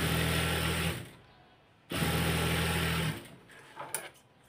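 Sewing machine stitching palazzo pants runs in two bursts of steady fast whirring, each about a second long and separated by a short pause, followed by a few light clicks as the fabric is handled.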